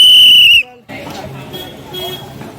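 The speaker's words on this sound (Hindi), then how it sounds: "हमारा मन हो रहा है कि एक बार फिर से सीटी" A loud, shrill, steady whistle blast lasts about half a second, then gives way to the murmur and chatter of a crowd of kanwar pilgrims on the road.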